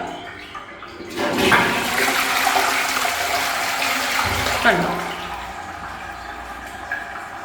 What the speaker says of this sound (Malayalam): ജസ്റ്റ് ഇങ്ങനെ ഇട്ടിട്ട് ഒന്ന് ഫ്ലഷ് ചെയ്ത് കളയാം കേട്ടോ